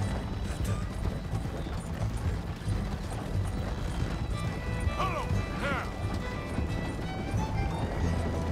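A horse's hooves clip-clop steadily in Red Dead Redemption 2 under a busy, rumbling game soundtrack with mechanical rattling, and a brief high whinny rises midway.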